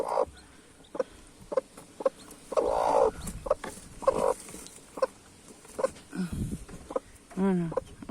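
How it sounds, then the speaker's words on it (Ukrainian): A chick peeping among farm fowl: a few short clucks and soft calls near the microphone, with a quick rising chirp series near the end, no clear talk over it. "Курча одне."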